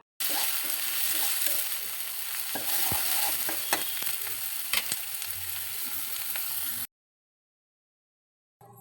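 Chepa fish fries in a wok with onion and garlic, sizzling steadily while a utensil scrapes and taps sharply against the pan during stirring, then everything cuts to silence near the end.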